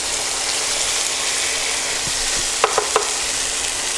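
Rice hits a hot wok with peas and oyster sauce mixed with soy, setting off a loud, steady sizzle and fry close up, with a few sharp clacks of stirring near the end.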